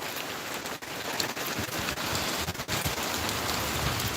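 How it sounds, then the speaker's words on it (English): Heavy rain pours steadily onto a black roof during roof repair work, a dense, continuous hiss with no voices, close and even throughout. "It's raining too hard."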